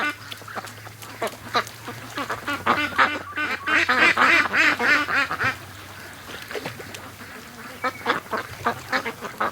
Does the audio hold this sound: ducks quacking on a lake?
yes